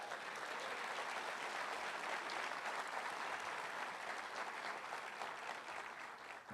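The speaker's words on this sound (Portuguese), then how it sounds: "Dá um aplauso a Jesus." A church congregation claps for Jesus during a service, dense, even applause filling the room for several seconds with no talking over it.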